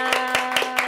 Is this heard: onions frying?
no